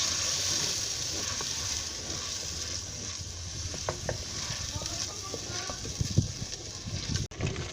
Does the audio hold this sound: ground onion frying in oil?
yes